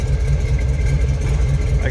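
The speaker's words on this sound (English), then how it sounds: "A little rumble coming out of that 454." A 1971 Chevrolet Suburban's 454 V8 with side dump exhaust ahead of the rear wheels idles with a deep, steady, throbbing rumble, close and continuous.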